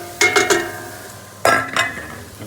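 Onions stirred in a pan while making beef pie filling, with bursts of scraping and sizzle around the start and again near the middle, close and moderately loud over a low cooking hiss.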